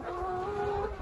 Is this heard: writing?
no